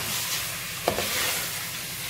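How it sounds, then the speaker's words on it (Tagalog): Chicken sautéing for molokiya, a broad steady sizzle with a single stirring scrape midway, close and without talk. "Isauté ko po siya ng maayos"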